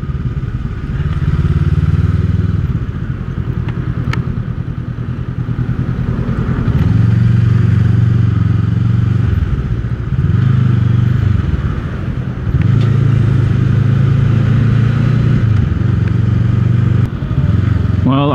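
A Honda Rebel motorcycle riding in heavy commuting traffic, its engine droning loud and close with rising and falling revs as it accelerates and eases off, with wind rush throughout.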